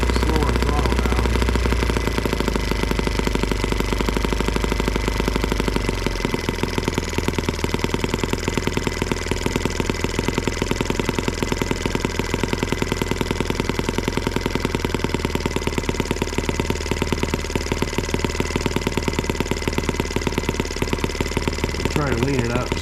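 An M12B engine runs steadily on alternative fuel after its throttle is eased down. The loud, continuous mechanical drone and rapid firing rattle stay close throughout, and the low rumble drops slightly early on.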